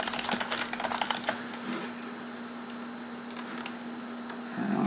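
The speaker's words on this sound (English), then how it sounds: "Now grab your text tool and start typing." Typing on a computer keyboard produces rapid clusters of close, crisp key clicks over the first second and a half, then sparser taps with a steady low hum beneath.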